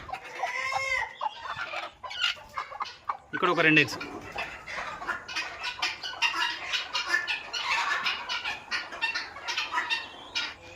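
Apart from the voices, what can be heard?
free-range guinea fowl and country chickens calling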